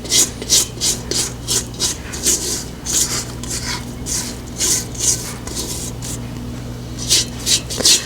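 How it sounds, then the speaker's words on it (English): Repeated rasping scrapes of a utensil against a bowl while peanut butter cookie batter made from a Betty Crocker mix is cleared out, the strokes coming in quick, steady bursts close up with no talking. "I want to kind of scrape it down so I can get it out."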